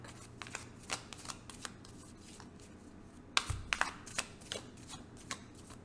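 Soft riffling and light slaps of tarot cards being shuffled, several quick bursts close by, fairly quiet with no talking.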